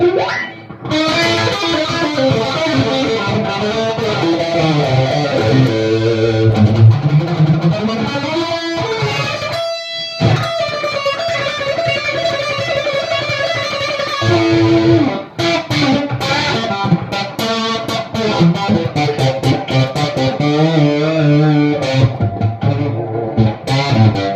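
An electric guitar plays loudly through an EVH 5150 III 50-watt mini amp with a 2x12 cabinet at full gain, heavily distorted, with chugging riffs, a brief pause and sustained notes.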